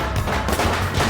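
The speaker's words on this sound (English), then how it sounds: "It's the first net cannon I've used that actually works." A net cannon fires in an animated cartoon, a loud, close burst of explosive gunfire-like blasts with a heavy low-end rumble and rapid repeated pops sustained across the moment, with no one talking.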